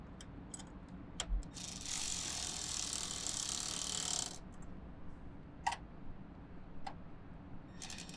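A ratchet tightens the battery terminal nuts on a 5th-generation Toyota 4Runner, giving a few quick close clicking bursts with a longer stretch of rapid ratcheting.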